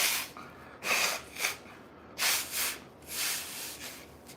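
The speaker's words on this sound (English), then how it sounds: "let me blow my nose." Several quiet, breathy bursts of nose blowing in an uneven rhythm, close and soft, with short pauses between them.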